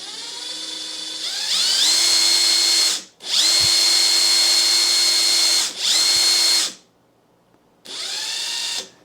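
A Makita XGT 1/2-inch drive mid-torque impact wrench spins free at full speed in several loud, high whining runs with rising and falling pitch, each cut off by brief pauses.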